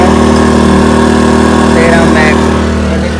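A Predator 2000 inverter generator runs close by as a truck's power unit, a loud, steady engine hum with no break across the short stretch.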